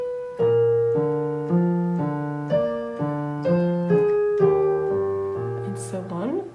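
Solo piano plays a theme slowly, with clear sustained melody notes over steady chords in an even, measured rhythm, close and clean.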